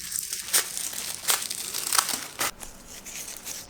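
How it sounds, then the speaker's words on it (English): Crepe paper rustles and crinkles close up while being cut into a long strip for a handmade giant hibiscus flower, with several short crisp bursts at an uneven pace. "Cut it horizontally into a long strip."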